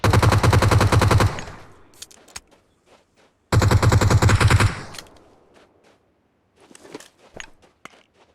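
Two loud, sustained bursts of automatic gunfire in PUBG Mobile, each about a second long, followed by scattered shots and clicks with gaps of quiet between.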